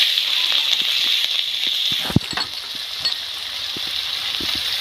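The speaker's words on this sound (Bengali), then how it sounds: "মাছ ভাজার তেলের মধ্যে দেব একটা পেঁয়াজ কুচি" Chopped onion hitting leftover fish-frying oil in a pan, a continuous bright sizzle with a few clinks of a spatula stirring, close and steady with no talk.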